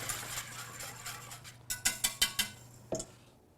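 Several sharp metal taps of a whisk against a pot holding smooth cornstarch mixture, a quick cluster of clinks near the end of a quiet stretch, then one last knock.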